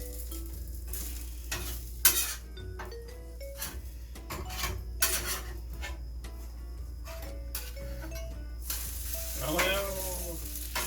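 A quesadilla fries and sizzles in a pan with a steady hiss, broken by sharp scraping and tapping of a utensil, and a brief voice near the end.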